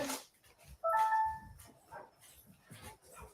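Dogs give a brief whining yip and soft bark in a quiet room, one short burst near the start that fades under low background noise.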